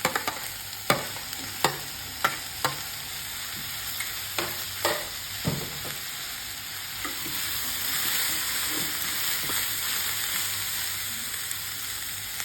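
Broccoli and capsicum sizzle steadily in a frying pan for a vegetable pasta sauce, with a run of sharp utensil taps and scrapes early on that ease into a continuous hiss; no one speaks.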